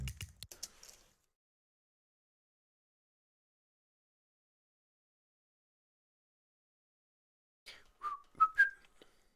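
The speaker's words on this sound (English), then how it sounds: "Oh no, whistling, sorry." A few short whistled notes near the end, after a long silence that follows a brief burst of clicking, quiet and close.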